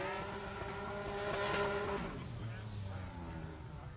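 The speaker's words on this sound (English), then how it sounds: "He's got the supercharger wound up." Supercharged engine of Robbie Nishida's drift car howling at high revs during a Formula Drift Round 5 qualifying run, loud and continuous with the pitch rising and then dropping off, with a commentator talking over it.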